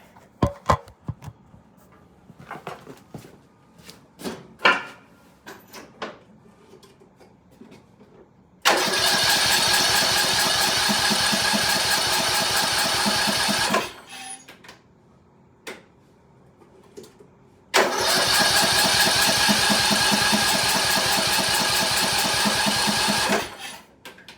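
A 2003 Craftsman LT2000 lawn tractor engine cranks and fires in two sustained loud runs, each about five seconds, after a stretch of quiet clicks and tool clatter.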